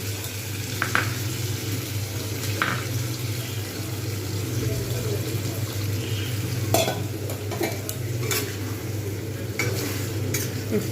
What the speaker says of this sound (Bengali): এর সাথে আর একটু জল দেব